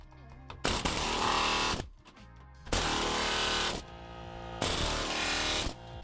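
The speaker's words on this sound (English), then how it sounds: "that air hammer is just the way to go" An air hammer with a prying attachment drives against a rivet in a skoolie bus, three loud sustained bursts of rapid hammering separated by short pauses, close up with no talk.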